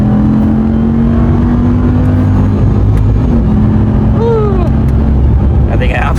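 A Ram 1500 TRX truck engine pulls hard and rises in pitch from close inside the cab, holding a loud steady drone before a late upshift, with a voice speaking briefly near the end.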